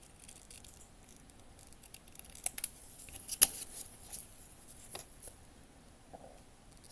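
Scissors snip through paper, cutting out parts for a miniature cat cafe garden room box, with quiet irregular snips and a few sharper close cuts against a near-silent background.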